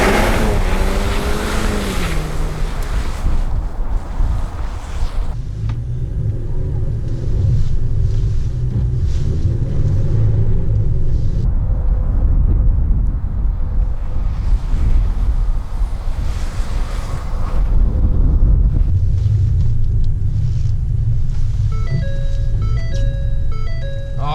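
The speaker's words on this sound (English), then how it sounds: "at least you can have some fun and do all-wheel drive burnouts." A 2020 Ford Fusion doing all-wheel-drive burnouts: a loud, continuous roar of engine and tires, heavily mixed with wind noise on the microphone, rising and falling over about twenty seconds with no talking.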